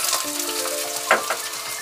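Potatoes sizzling in a hot pan for an aloo baingan sabji, a steady soft hiss with a brief clatter of a spoon partway through, close up and with no voices.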